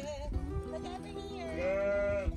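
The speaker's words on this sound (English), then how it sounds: "Hello, sheep." Sheep bleat in a few drawn-out, wavering calls, close by near salt pans in Castro Marim, Portugal, with a longer bleat near the end and faint talk in the background.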